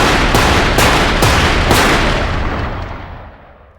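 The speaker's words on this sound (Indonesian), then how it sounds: "Ryo langsung menunjukkan skill menembaknya yang tepat sasaran." Several sharp gunshots from a film firefight crack out in quick succession over a dense, roaring background, the blasts loud and close before the din slowly fades away.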